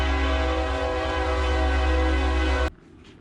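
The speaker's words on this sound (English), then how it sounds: "Train come by." A train sounds a long, steady, loud horn blast near an iced-over fishing spot, the tone holding for over two seconds before cutting off abruptly into faint rumble.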